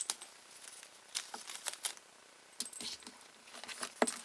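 Fabric pieces for a herringbone quilting technique are cut straight across, giving a string of quiet, crisp snipping and rustling sounds with short pauses between them and no voices.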